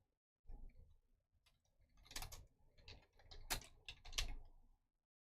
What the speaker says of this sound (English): You guys can hear me typing.